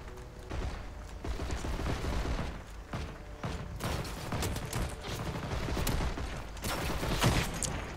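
Gunfire from a Panzerbüchse 39 anti-tank rifle in the Heroes & Generals video game, loud and continuous battle noise with repeated shots and blasts layered densely throughout, no speech.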